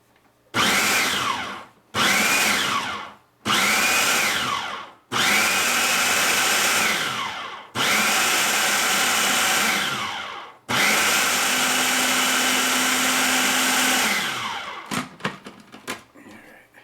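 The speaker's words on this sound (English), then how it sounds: "the mixture starts to turn over really well in the processor, then I'll just turn it on high for a couple minutes" A food processor grinds a bean mixture in several short loud pulses, then runs on high in two longer continuous bursts before stopping, close and loud.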